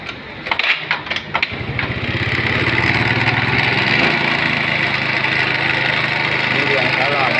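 A Yamaha Mio scooter with a leaking rubber part and slow-returning throttle is started with a few sharp cranking bursts, then settles into a steady, loud, close engine run with a continuous buzzing drone.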